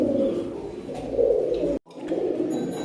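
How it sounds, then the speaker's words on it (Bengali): A pair of black-headed pigeons coo nearby in low, throaty, rolling calls that continue almost without pause, broken by one brief gap. "এক জোড়া কালদম কবুতর"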